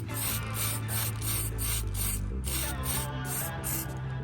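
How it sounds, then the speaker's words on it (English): A spray paint aerosol can hisses in quick repeated bursts over a steady low hum, each short spurt evenly spaced and close by. "We're gonna tape these up and spray them with this."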